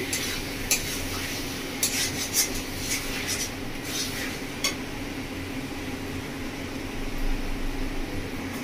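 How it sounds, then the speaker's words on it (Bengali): Chicken being stirred with spices in a pan while the dish is cooked down for chicken kosha, with steady scraping and rubbing alongside a few sharper clinks of the utensil against the pan, close by and with no talk. "চিকেন দিয়ে খুব ভালো করে মশলার সঙ্গে কষিয়ে নেব।"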